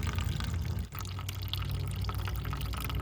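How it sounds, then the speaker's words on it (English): Clean water mixed with antifreeze pours steadily from the waste valve cap of a 2022 Winnebago Travato 59KL RV, a continuous close splashing flow with a brief dip partway through. "when I open up the cap now, whatever comes out will be clean water, mostly with some antifreeze in it."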